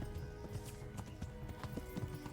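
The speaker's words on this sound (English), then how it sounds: "And we are going at full gallop" A horse in the game Kingdom Come: Deliverance gallops at full speed, its hooves pounding in a quick rolling rhythm, close and steady under busy game sound.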